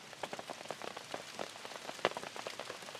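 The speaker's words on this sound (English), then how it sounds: "The good news is the rain's supposed to be over in 12 hours." Rain falling on a surface at a stormy outdoor camp, with irregular close drops tapping and pattering over a soft steady hiss, one louder plop standing out, with no voices.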